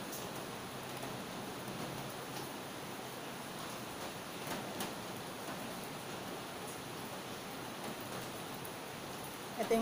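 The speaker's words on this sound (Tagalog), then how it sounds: "Umuulan ngayon." Steady rain falls outside during an evening meal of Korean food, a constant even hiss that runs through the whole stretch with no talk over it, fading only at the very end.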